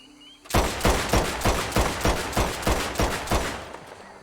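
A gun in the Red Dead Online video game fires a rapid string of about twelve loud, sharp reports at an even rhythm, close and alone with no talk.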